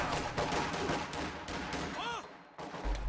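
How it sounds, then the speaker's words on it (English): Rifle squads and grenadiers trade fire from heavy cover in a real-time strategy game, with a dense, continuous clatter of small-arms shots and bursts, a brief rising whistle near the end, then more firing. "Rifles duking it out against grenadiers, both from heavy cover."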